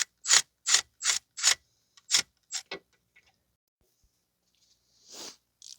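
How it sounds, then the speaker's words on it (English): Ratchet clicking as it turns the nut on the front lower control arm pinch bolt of a 2006 Mazda 3 2.3, in a series of short, crisp bursts close up, then a quieter metallic rattle. "Make sure you're holding the pinch bolt and you are turning the nut."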